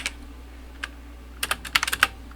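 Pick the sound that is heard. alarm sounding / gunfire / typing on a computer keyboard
typing on a computer keyboard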